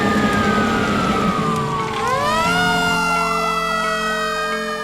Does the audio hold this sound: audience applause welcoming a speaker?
no